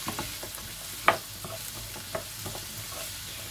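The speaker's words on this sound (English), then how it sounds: "I'm just adding these onions. Just mix these onions." Onions fry in hot ghee for a mutton curry, with a continuous close sizzle. A spoon stirs them with soft scrapes and one sharp clink of metal near the middle.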